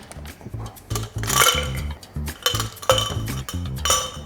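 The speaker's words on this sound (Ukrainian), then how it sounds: "посуд для подачі, в котрий ми кладемо лід" Hard little clinks and knocks repeat unevenly as pieces of ice drop and rattle into a serving glass for a cold coffee drink, bright and close, with no talking.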